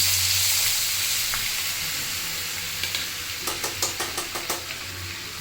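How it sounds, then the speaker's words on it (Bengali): Butter and white oil sizzle in a well-heated kadai, a steady frying hiss that turns into a quick run of metal stirring taps against the pan in the second half, no talking. "কড়াইটা ভালো করে গরম করে নিয়েছি, তারপরে দিয়েছি সাদা তেল, তারপর দিয়ে দিলাম বাটার"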